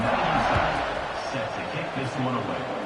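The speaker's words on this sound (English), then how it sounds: "this crowd is buzzing after that last score" Football stadium crowd at a college game buzzing with a steady, dense roar after a score, with a commentator's voice talking over it.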